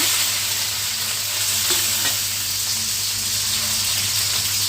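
Onions, green chillies and curry leaves frying in hot oil, a loud continuous close sizzle with stirring, steady for the whole stretch and free of speech.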